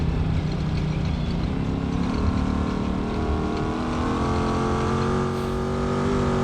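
Trophy truck engine in the BeamNG.Drive racing game, a steady loud drone with layered harmonics holding high revs through a desert time-trial straightaway on Johnson Valley, with no talk over it.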